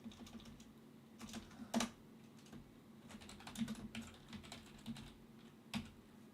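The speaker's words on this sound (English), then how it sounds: "so I'm just gonna type" Typing on a computer keyboard at a streaming desk, a steady patter of soft key clicks with a few louder isolated strikes, close and fairly quiet, no voices.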